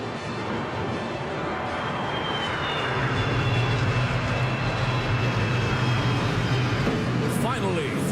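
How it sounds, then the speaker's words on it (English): An F-15SG fighter jet roars through the sky at the Singapore National Day Parade, a broad sustained rumble with steady jet-engine noise throughout and a faint rising whine near the end. "feel the roar of the F-15 SG as they engage their afterburners"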